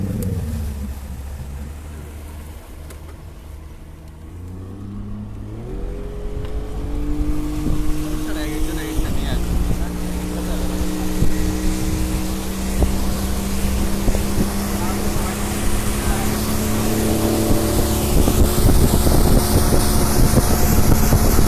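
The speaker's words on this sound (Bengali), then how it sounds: "আসতেছে আরেকটা নৌকা আসতেছে" A motorboat engine on the Gomti River rises from a low drone into a louder, steady hum as the boat draws near, with wind noise and occasional voices.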